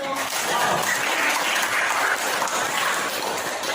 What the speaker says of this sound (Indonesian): Kasih tepuk tangan dulu.